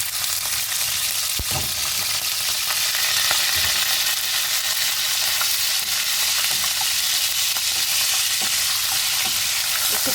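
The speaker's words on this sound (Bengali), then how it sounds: "তেলটা গরম হয়ে আসছে, প্রথমেই আমি কি করব, শুটকি মাছটাকে ভেজে নেব" Strips of dried loitta fish fry in hot oil, producing a loud, continuous close-up sizzle and crackle with scattered spoon taps and stirring scrapes throughout.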